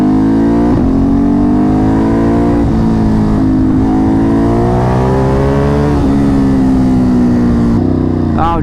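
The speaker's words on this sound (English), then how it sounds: "I went first gear, full on out, blasted red line" Ducati Monster 937 motorcycle with a tuned race module and high-performance kit, revving hard to redline in first gear; a loud, close engine note climbs in pitch in repeated surges with brief dips between, then drops off near the end.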